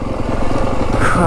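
A 2025 Yamaha WR250F dirt bike engine drones close and loud while riding downhill in Arizona's Dragoon Mountains near Pearce, with a short rise in revs near the end.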